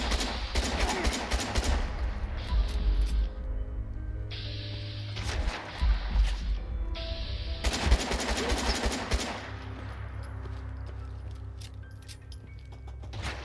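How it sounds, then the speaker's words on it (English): Rapid gunfire in Fallout 4 VR, loud bursts of automatic shooting come in several clusters separated by brief pauses, with sharp metallic clatter between volleys and no voices. "Panic shooting."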